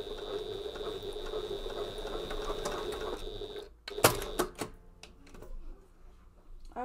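Janome HD9 sewing machine stitching through five layers of faux leather, a steady whirring motor with rapid needle patter that stops partway, followed by a few sharp clicks and handling knocks.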